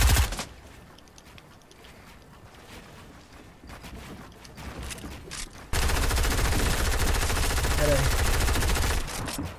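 A harpoon gun fires in a video game: a long, loud, continuous burst of rapid shots takes over in the second half, after quieter game noise and a brief spoken word.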